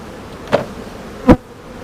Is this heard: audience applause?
no